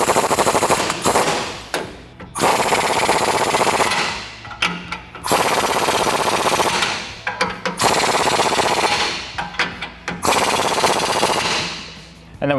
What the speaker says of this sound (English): we'll switch out for a 22mm socket and we'll tighten these down in a crisscross pattern